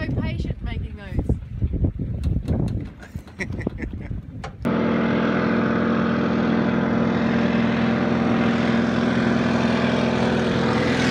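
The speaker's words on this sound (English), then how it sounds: "Gotta love it when a plane comes." Steady propeller-plane drone passing over a sailboat at sea, cutting in abruptly and holding loud and constant after several seconds of talk and water noise.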